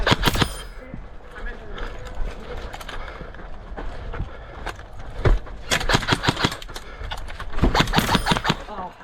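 Airsoft guns fire in quick bursts of sharp cracks and rapid snapping shots during a close-quarters game, with clusters of loud pops spread across the clip and players calling out between them.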